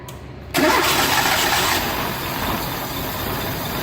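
A carbureted Renault 12 Toros engine cranks and fires up after a brief quiet moment, then settles into a loud, steady idle close by.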